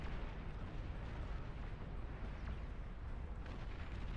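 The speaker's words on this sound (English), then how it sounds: "Long-range napalm launcher spotted." Continuous heavy rumbling blasts of napalm launcher explosions in a video game, dense and loud with overlapping booming bursts throughout and no pauses.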